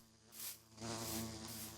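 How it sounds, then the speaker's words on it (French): A bee in the Minecraft video game gives a soft, steady buzzing drone, faint and close, swelling slightly midway and continuing alone without talk. "Oh, une petite abeille."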